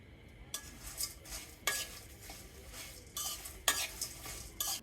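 Whole spices with coriander and mace frying in oil for chicken dum biryani, with a steady sizzle broken by repeated scraping strokes of a spoon or spatula, close and clear.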